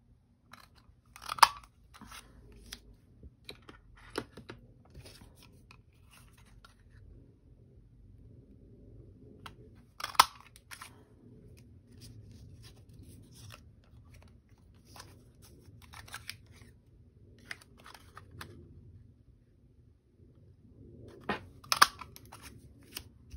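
Scissors cutting paper pieces for a craft sheetload, heard as scattered short crisp snips and rustles spread over a quiet background, close by and without speech.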